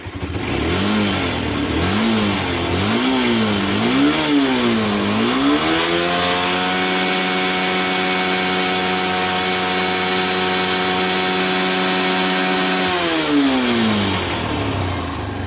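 Honda Hornet 160R BS4 motorcycle engine revved in repeated rising and falling blips, then held at a steady high drone before dropping back, loud, close and continuous, with no talking.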